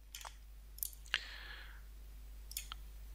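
A computer mouse gives a few sharp, quiet clicks, spaced irregularly over a few seconds in a quiet room with faint background hiss.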